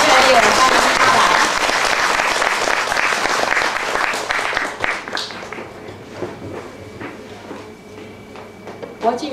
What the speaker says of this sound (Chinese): 我们一掌声热烈欢迎她来